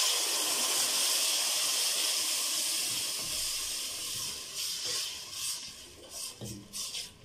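Tomatoes hit a hot pan for an Egyptian tomato pasta sauce and sizzle with a loud, steady hiss that thins out toward the end into uneven, sputtering bursts.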